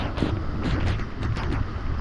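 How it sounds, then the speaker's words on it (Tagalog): Strong typhoon wind gusts and buffets close by, a rough broadband roar that surges in uneven pulses throughout. "Lakas naman ng hangin."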